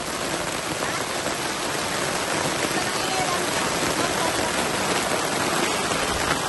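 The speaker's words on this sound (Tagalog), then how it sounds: "nagka-camping kami ngayon at napakalakas ng ulan" Heavy rain pours down on a campsite, a dense, steady hiss of drops drumming on surfaces that stays loud and unbroken throughout.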